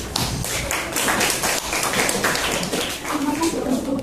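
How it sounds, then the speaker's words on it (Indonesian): Audience at a classroom teaching practice session claps steadily, a dense close patter of many hands lasting throughout. "Beri tepuk tangan."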